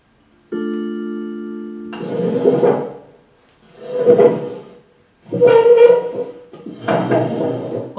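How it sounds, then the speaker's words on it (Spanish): A chair is dragged across a floor at home in several loud scraping pushes separated by short pauses, after a brief steady tone at the start. "Cuando arrastran silla."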